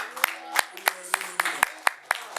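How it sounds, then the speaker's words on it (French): A church congregation at a worship and praise service claps in a steady, even rhythm of sharp, close claps, with voices and a sustained musical tone running beneath. "On applaudit le Seigneur."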